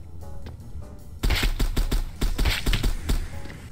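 Rapid bursts of gunfire from a secondary weapon in the survival shooter Apocalypse Rising 2, loud and close, a dozen sharp shots in an uneven rhythm after a quiet first second with faint background noise.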